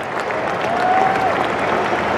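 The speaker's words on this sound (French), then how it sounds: "Allez, on les applaudit, on leur donne du courage." At a soapbox cart race, an outdoor crowd claps in a steady, loud wash of applause that holds throughout with a faint whistle in the middle.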